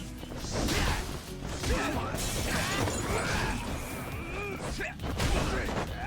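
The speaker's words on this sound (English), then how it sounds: "I hate that we had to break the glass of this poor guy's restaurant" Glass smashing at a restaurant during a brawl in the video game Judgment, a dense, loud stretch of crashes, impacts and shattering mixed with fight effects and voices throughout.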